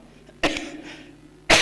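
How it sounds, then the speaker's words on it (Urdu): Two sharp coughs from a man at a religious gathering, the first brief and the second loud and abrupt after a quiet pause, with low room hum between them. "نہیں رہنے دیجیے، کھانسی ہے میرے کو"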